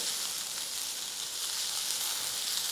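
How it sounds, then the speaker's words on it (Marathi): Onion frying on a high gas flame for a Vidarbha-style patwadi rassa produces a continuous, even, bright sizzle that holds steady and close throughout, with no talk. "आता आपण गॅस मोठाच ठेवू आणि चांगला तांबूस रंगावर कांदा भाजूया"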